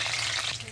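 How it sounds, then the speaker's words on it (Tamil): Green chillies sautéing in hot oil in a pan for prawn biryani give a brief, steady, close sizzle without voices. "இப்போ இதில் பச்சை மிளகாய் போட்டுக்கிறோம். இது கொஞ்சம் வதங்கட்டும்."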